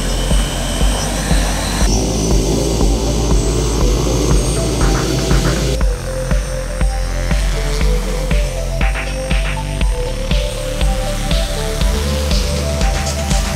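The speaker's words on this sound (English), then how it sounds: "Today we performed our first flight test with our next-gen VTOL drone" A Zuri next-gen VTOL drone on its first flight test, hovering, rolling and pitching, gives off a loud, steady whirring drone of rotors that holds for the whole stretch and shifts in tone as it moves.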